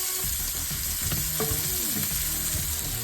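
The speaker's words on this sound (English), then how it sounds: "Let that keep frying up" Jambalaya base of Cajun chicken and sausage sizzles and fries steadily in a pan with green seasoning, a dense continuous hiss with occasional stirring scrapes, close and fairly loud, with no talking.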